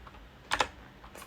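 A few keystrokes on a computer keyboard, two close clicks followed by fainter taps, brief and without talk.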